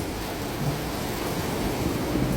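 A heavy rain shower hisses steadily and loudly over a continuous low rumble of thunder, with no voices and no breaks.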